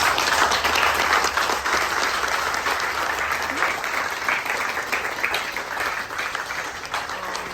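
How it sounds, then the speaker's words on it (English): Steady crowd applause from a seminar audience at the Annapolis Sailboat Show, thick and continuous throughout, gradually thinning toward the close. "So huge round of applause for all these speakers"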